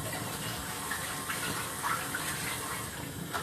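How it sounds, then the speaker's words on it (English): Water runs steadily from a tap for a few seconds as hands are washed before making salami, a continuous close splashing hiss with no talking. "Okay, wash my hands."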